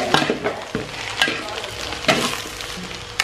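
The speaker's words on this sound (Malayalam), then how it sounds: "ഈ ഇളക്കുന്നതിൻ്റെ സൗണ്ട് ക്രക്കറെന്ന് കേൾക്കുന്നത് ക്ഷമിക്കണേ." Chicken noodles are stirred in a hot pan, a sizzling hiss with a few loud scraping, crackling strokes spaced irregularly, close up and without speech.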